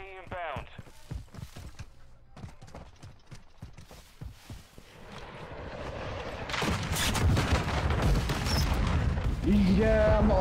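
Rapid gunfire in a Call of Duty Vanguard match, sharp repeated shots in bursts that grow denser and louder toward the end, mixed with game effects while players talk over it.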